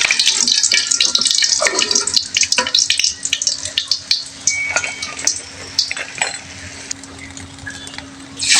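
Pumpkin leaf fritters fry in hot oil, a dense crackling sizzle broken by clinks and scrapes of a utensil, loud and close, with no one talking.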